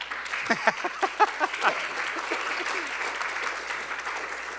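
Lecture audience clapping, with a burst of louder, distinct claps at the start that settles into a steady, softer patter of applause continuing to the end.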